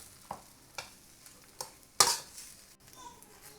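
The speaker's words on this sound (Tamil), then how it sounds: "இதை வந்து நம்ம நல்லா லோ ஃப்ளேமில் வச்சு நல்லா மிக்ஸ் பண்ணி எடுக்க போகிறோம்." Brown rice prawn noodles with crushed pepper being stirred in a pan over a low flame, giving a few soft scraping stirs with a louder sharp clatter midway over a quiet background sizzle.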